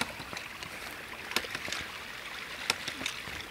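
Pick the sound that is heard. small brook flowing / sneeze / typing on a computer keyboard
small brook flowing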